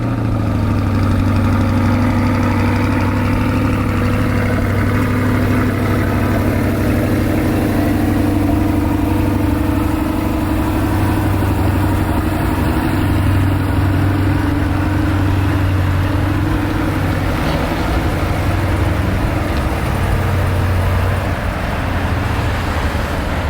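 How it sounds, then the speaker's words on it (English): A Chevrolet Corvette C8 V8 after a cold start, idling steadily with a deep, continuous rumble that holds a constant level from start to finish, close by in an outdoor hotel parking lot with no one speaking. "C8 cold start."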